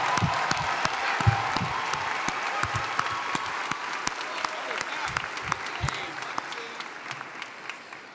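A crowd at a university commencement ceremony applauds steadily, many hands clapping in a dense, sustained patter that fills the room at a moderate level.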